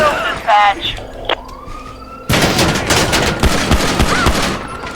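Gunfire rings out in the LSPDFR police game, a dense, loud burst of rapid shots erupting midway and continuing to the end, with a siren-like tone and brief voice sounds before it.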